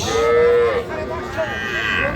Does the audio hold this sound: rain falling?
no